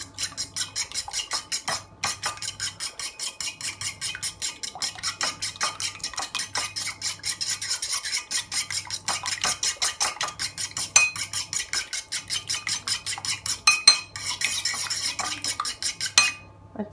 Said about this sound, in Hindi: इसको हम मिक्स कर लेंगे अच्छे से